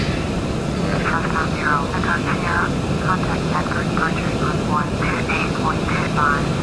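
In Microsoft Flight Simulator X, an airliner's engines roar in a loud, constant takeoff drone as it climbs out of Denver, while a voice talks over it and cockpit callouts sound.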